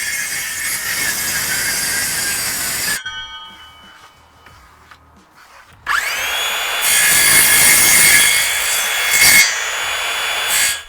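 A circular saw set to a very deep plunge depth cuts wood inside a kitchen sink cupboard: a loud, close whining cut, a quieter pause, then a second long, harsh cut that runs to the end.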